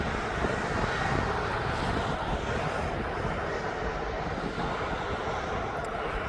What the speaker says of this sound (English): This aircraft is off to Larnaca